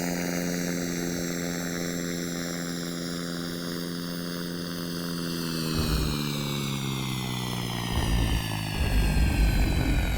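Turboprop airliner in the SimplePlanes flight game coming in to land, a continuous droning propeller and engine tone that shifts in pitch, with low thumps and rumbles near the end as it touches down.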